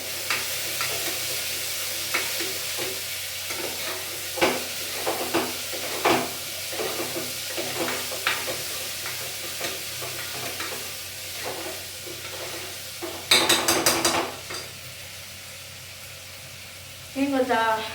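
Potatoes and beans frying in a pan for pallav, stirred repeatedly with a utensil: a steady sizzle under rhythmic scraping knocks, close up, with a brief burst of running tap water near the end.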